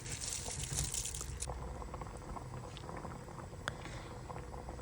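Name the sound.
water boiling in pot for pilaf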